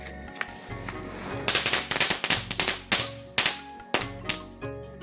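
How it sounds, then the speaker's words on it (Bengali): Firecrackers set off during Kali Puja, a rapid run of sharp, loud cracks and bangs in irregular bursts, with a steady background hiss between the pops. "আমরা এদিকে বাজি চালাচ্ছি।"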